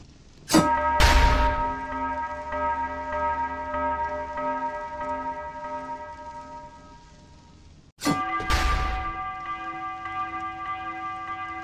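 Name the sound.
bell tower bell struck in video game Dead Cells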